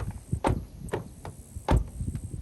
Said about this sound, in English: When you shut the doors, the exhaust system rattles